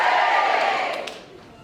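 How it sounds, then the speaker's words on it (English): A live audience at the Wexford Rose of Tralee 2022 final gives a short cheer for the roses: a loud burst of mixed shouting voices that quickly fades away. "So I want a big cheer for all the roses."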